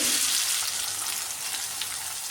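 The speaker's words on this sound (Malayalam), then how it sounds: "ഇനി ഇതിലേക്ക് വെളിച്ചെണ്ണ നന്നായി ചൂടായതിന് ശേഷം നമുക്ക് നമ്മളെ സവാള ഇട്ട് കൊടുക്കാം" Two finely chopped onions frying in hot coconut oil make a loud, dense sizzle that hisses steadily and close up for the whole moment, easing slightly after the first instant, with no voices.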